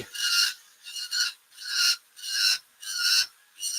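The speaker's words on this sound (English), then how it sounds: "I'm just going to taper it down and try to get that so that I've got it smoothed out in the shape of a leg" A file rasps against a scale model figure's leg as it is tapered and smoothed, with about seven close, even back-and-forth strokes at a brisk rhythm and short pauses between them.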